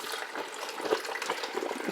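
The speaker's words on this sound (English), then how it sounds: "Pour all the water into the canister." Water splashing and gurgling steadily into a container, a continuous bright pouring rush.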